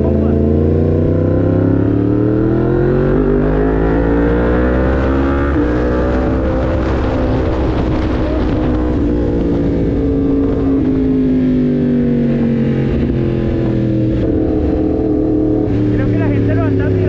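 Yamaha MT-10 motorcycle engine revving loudly and steadily up and down, with a deep rumble rising and falling over about seventeen seconds.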